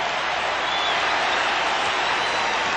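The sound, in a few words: basketball arena crowd applauding Kareem's sky hooks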